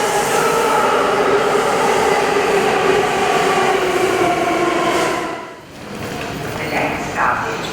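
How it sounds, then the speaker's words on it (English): A New York subway train roars steadily into a station, a loud continuous rumble with rattling wheels that briefly dips before resuming. "Here comes our train."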